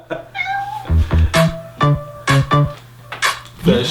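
A cat meows repeatedly in short, loud, close bursts, several in quick succession over about four seconds, with a faint background hum.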